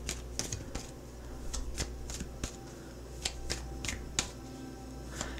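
Tarot cards being shuffled by hand during a reading: soft, continuous riffling with scattered sharp card snaps, quiet and close with no talking.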